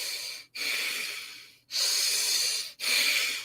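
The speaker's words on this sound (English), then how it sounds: "I was already breathing pretty good out of my nose" Three long, forceful breaths drawn in through the nose during breathwork, each a loud, airy rush separated by brief silent pauses, close and alone.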